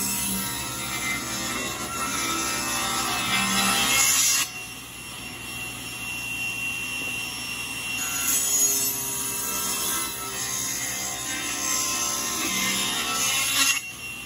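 Table saw with its blade raised cuts wood for an acoustic guitar back, a steady whining drone with louder bursts of blade bite as the workpiece is pushed through, running throughout without speech.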